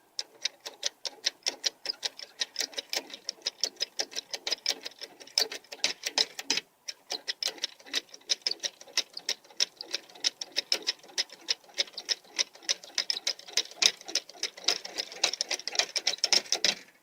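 A hand pump stroked repeatedly during a pressure test on a clamped joint, heard as a fast, steady run of sharp mechanical clicks with a brief pause partway through, close and moderately loud.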